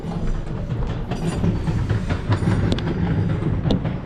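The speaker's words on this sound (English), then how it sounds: "Oh, there's the first train." A train rumbles past a London hotel loudly and steadily, a deep roar with clattering and occasional metallic squeals over the whole stretch.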